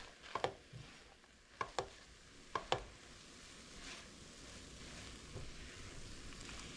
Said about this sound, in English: Give that a nice mix.